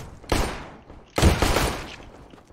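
Two loud bursts of rapid gunfire in Counter-Strike on the de_dust2 map, each a sharp onset trailing off over about half a second, heard alone without talk.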